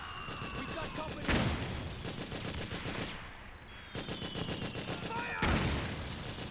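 Rapid automatic gunfire from Metal Gear Solid 4: Guns of the Patriots, loud continuous bursts with heavier booming shots punctuating the stream and soldiers shouting over the combat.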